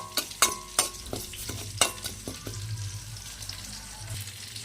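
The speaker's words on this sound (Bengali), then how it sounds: "চালটাকে একটু নেড়ে চেড়ে চুড়মুড়ে করে ভেজে নেব" Rice grains stirred and dry-roasted in a hot wok, with repeated sharp scraping and clinking strokes over a low steady sizzle, moderately close and without talk.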